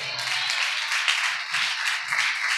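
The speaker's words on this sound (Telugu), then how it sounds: "చప్పట్లు కొట్టాలి" A church congregation applauds together, a steady wash of clapping that holds throughout at moderate level, with no distinct voices rising above it.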